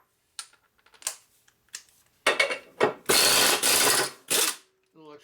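A ratchet wrench torques a stud on a Buell Blast 650cc single-cylinder race engine, giving several close bursts of rapid clicking, the longer runs coming in steady pulls separated by short pauses.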